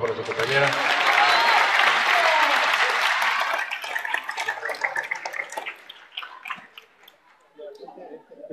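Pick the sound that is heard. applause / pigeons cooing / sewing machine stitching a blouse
applause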